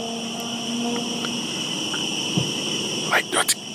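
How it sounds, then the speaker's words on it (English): Steady high-pitched cricket chirping at night while camping fills the background throughout, with a few faint knocks and short rustles near the end. "Only the sound of crickets breaks the silence."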